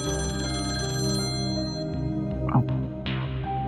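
A telephone rings with a steady electronic trill, fairly close, followed by a few small clicks and shuffling sounds near the end.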